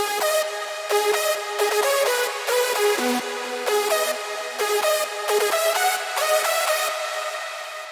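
Second hardstyle synth lead for a bigroom climax, its pitch modulated with odd resonances, plays a loud, bright stuttering melody of short chord stabs in a steady rhythm, with no other sound around it.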